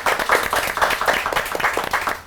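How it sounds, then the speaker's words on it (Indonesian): An audience at a regional fashion talk show claps for the hosts: a brisk run of overlapping hand claps in quick succession, fairly loud and close, continuing steadily for a couple of seconds with no talk over it. "Boleh tepuk tangan dulu buat kita, guys."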